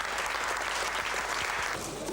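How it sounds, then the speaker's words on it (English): Crowd applauding team boss Frank Williams at a 1986 Formula One Grand Prix, a steady dense wash of clapping that holds at even loudness throughout, with no voices standing out. "He was applauded to the echo"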